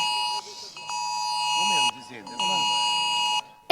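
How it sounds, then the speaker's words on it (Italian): The IT-Alert national public emergency alarm sounds on mobile phones across a Catania market during a Sicily-wide test: loud, sustained electronic tones in several long bursts with a warbling rise, while a voice talks over the gaps. "È il suono distintivo di IT Alert, il nuovo sistema di allarme pubblico nazionale che oggi viene testato in tutta la Sicilia."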